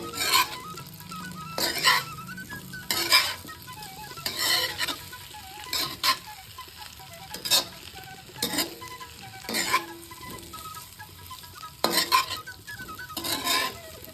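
Baby potatoes sizzle in a frying pan as a spatula stirs and scrapes them in repeated, regular strokes, loud and close, with no voices.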